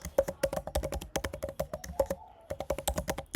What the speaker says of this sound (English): So I'm just typing it out fast.